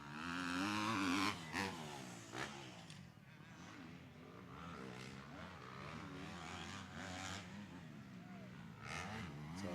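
Motocross dirt bikes racing toward the finish over a triple jump at Winchester Speedpark, engines revving and whining up and down as several bikes pass, loud then settling into a steady drone, with a commentator talking over them.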